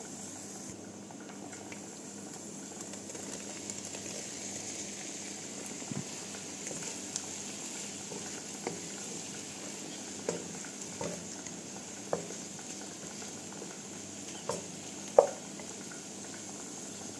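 Shrimp sautéing with onion in a pan: a soft, steady sizzle throughout, faint, with occasional small clinks and stirring taps.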